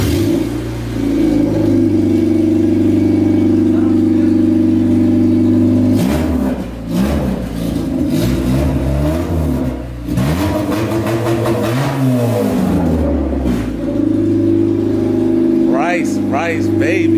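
A Honda Civic CRX Si engine idles steadily, then revs up and down repeatedly in the middle with rising and falling pitch before settling back to a loud, close idle.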